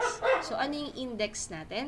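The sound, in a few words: dog barking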